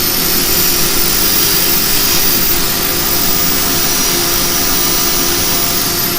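Powered sanding tool running steadily against a turned yew piece on a woodturning lathe, a loud continuous whirring hum with no pauses and no talking over it.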